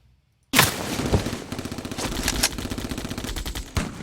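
Sound-design gunfire: dense rapid machine-gun bursts with booming impacts, starting abruptly after a moment of silence and rattling on steadily, loud and without speech.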